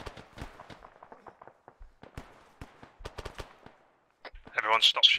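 Gunfire in Arma 3, a rapid spatter of sharp, fairly faint shots in irregular bursts, becoming louder and denser near the end, with speech mixed in.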